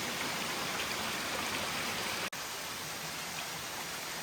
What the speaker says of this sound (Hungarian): Micsoda csodálatosan tiszta víz csobog itt.